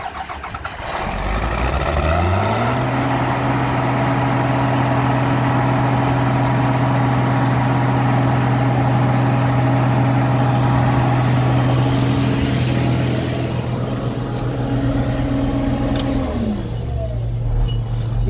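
A haying-equipment engine cranks, catches and settles into a steady, loud running drone at low throttle, holding for over ten seconds before winding down near the end.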